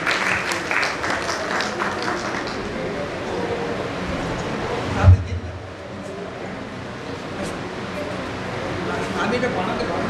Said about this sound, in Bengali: প্লিজ জোরে করতালির মাধ্যমে